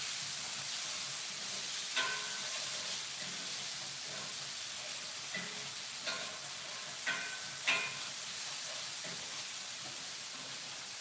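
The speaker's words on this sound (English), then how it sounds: "Let it sweat and hear the sizzle." Onions and bell peppers fry in oil over high heat, giving a steady, bright sizzling hiss broken by occasional soft clicks and scrapes from stirring.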